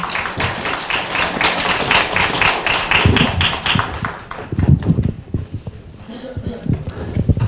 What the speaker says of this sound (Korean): 큰 박수 청해 드리겠습니다